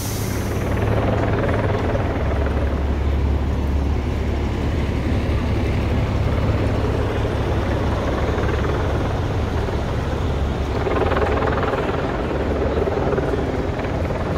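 Helicopters drone steadily overhead above a busy downtown street on Michigan Avenue in Chicago, a continuous loud rotor rumble mixed with city traffic noise throughout.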